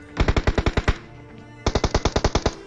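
Video game gunfire in two rapid automatic bursts, each of about eight sharp, evenly spaced shots, separated by a short pause, loud and close with no talk.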